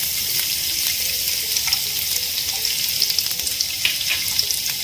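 Finely chopped garlic sizzles steadily in hot oil in a pan while an aloo 65 cooks: a close, dense frying hiss with small crackles and pops throughout.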